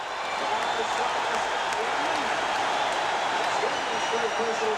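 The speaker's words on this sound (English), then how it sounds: "listen to this crowd" A large indoor basketball arena crowd roars steadily during a 1984 NBA playoff game between the Celtics and Knicks, a dense, sustained wash of cheering and noise that stays loud throughout.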